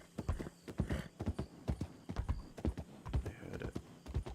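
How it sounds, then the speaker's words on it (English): Horse hooves clip-clop steadily and close by, an uneven rhythm of hard knocks on the ground, with no talking. "It was a horse riding near me."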